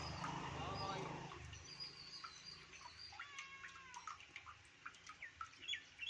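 A sparrow stuck in water chirps in short, thin calls that grow more frequent toward the end, after a voice talks briefly at the start.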